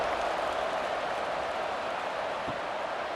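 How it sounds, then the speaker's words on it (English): A college football stadium crowd keeps up a loud, steady roar and buzz after a touchdown at a Louisville Cardinals vs. Boston College Eagles game, with a dense wash of voices throughout and no break. "this crowd is buzzing after that last score"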